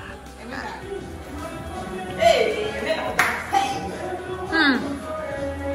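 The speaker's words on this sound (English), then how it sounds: "Where they clap for dance" Hands clap in rhythm to accompany dancing at a joint second anniversary family celebration, sharp claps rising over lively chatter and children's voices, with a few louder bursts standing out.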